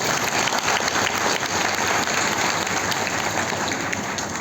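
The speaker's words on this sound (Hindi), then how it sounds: "देखो, इनकी सच्चाई के लिए ताली बजाइए।" Sustained applause from a seated audience at a spiritual gathering, dense and steady clapping filling the whole stretch at close range with no voices over it.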